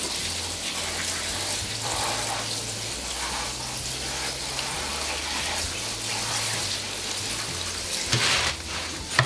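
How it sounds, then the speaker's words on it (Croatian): Running water pours steadily as fresh spinach leaves are rinsed before going into a spinach and feta pie, a continuous gushing tap-like wash with a few louder splashes near the end. "Spanać je potrebno dobro oprati."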